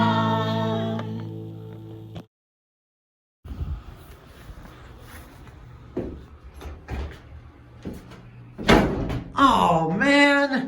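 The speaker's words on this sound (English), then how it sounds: "Shed door slammed again." A shed door bangs shut in a loud thud after a short silence, followed by scattered knocks and rattles, then a person speaks close by over the noise.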